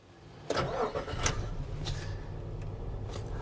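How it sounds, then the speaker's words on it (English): A Nissan Elgrand E50 minivan engine cranks and catches with a short burst of revs, then settles into a steady, low idle, heard from inside the cabin with a few faint clicks. "Now, I'm gonna turn the car on."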